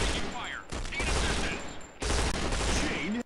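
Sustained automatic gunfire in the shooter Point Blank Strike, loud continuous bursts with a brief break in the middle before firing resumes.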